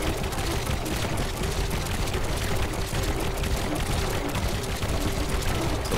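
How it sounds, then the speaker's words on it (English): Four guns on a flying creation in the video game Trailmakers fire in a dense, continuous rattling barrage that stays loud and even throughout. "Left shift opens up our four guns."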